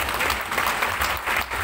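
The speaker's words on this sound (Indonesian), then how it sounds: "Kasih tepuk tangan bagi nama Tuhan." Church congregation applauding during a Christmas service sermon, a dense, steady wash of many hands clapping throughout, loud and close, with no talk over it.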